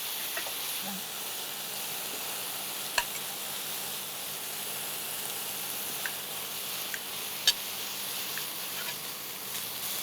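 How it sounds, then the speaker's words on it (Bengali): Spice paste with turmeric fries in a pan for Bengali spicy eggplant curry, a soft steady sizzle and hiss with a few faint clicks and taps of a utensil, quiet and without talk. "মশলাটা ভালোভাবে কষিয়ে নিতে হবে"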